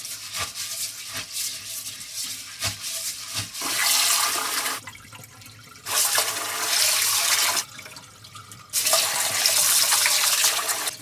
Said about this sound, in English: Pour out water and just scrub like this.